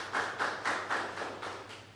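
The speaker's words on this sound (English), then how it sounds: "You can clap here, I'll pause" Audience at a project closing ceremony clapping in a soft, distant rhythm: a short run of about seven evenly spaced claps or taps, fairly faint, with no talking over them.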